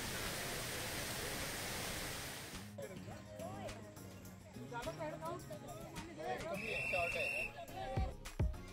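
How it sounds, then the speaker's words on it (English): Ganesh waterfall at Andharban during the monsoon: steady broadband rushing water, loud for the first two and a half seconds, then quieter under outdoor sounds, with a brief high whistle-like tone near the end. "It is Ganesh waterfall."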